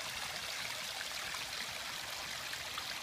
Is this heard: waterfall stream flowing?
yes